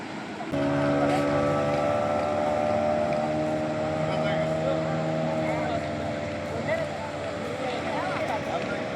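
A water sports boat at Chivla beach runs with a steady, droning engine hum that kicks in after a brief pause and holds a sustained tonal whine under a wash of surf and beach ambience.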